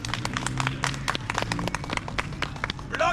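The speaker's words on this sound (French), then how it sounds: "on applaudit Renard" Audience applauding a storyteller's character Renard at a live tale-telling show, a dense run of hand claps from a modest group, fairly close and steady for the whole stretch.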